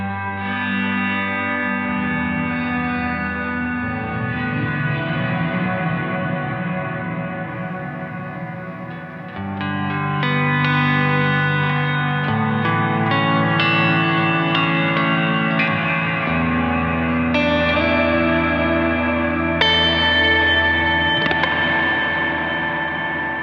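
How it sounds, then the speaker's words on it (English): An electric guitar plays sustained chords through a Strymon NightSky pedal's dense plate reverb, lush overlapping tones swelling and changing every few seconds, loud and continuous with no talking. "so dense is a plate reverb"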